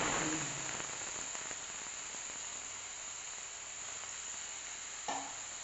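Two large onions going into a pan for restaurant-style soya chaap gravy give a steady, fine sizzle that crackles throughout, with a brief louder stir or clatter near the end and no talking.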